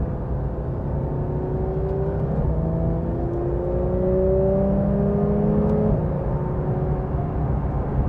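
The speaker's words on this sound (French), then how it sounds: "Le son du flat 6." A Porsche GT3 RS with a flat-six engine runs hard on a race circuit at sunset. The engine drones steadily from inside the car as it climbs and shifts through gears, with no talk over it.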